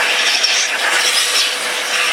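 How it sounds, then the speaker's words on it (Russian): A construction vacuum cleaner runs continuously, being used to blow bees out during honey harvesting, giving a loud, steady airy roar close by with no break. "Включаем пылесос."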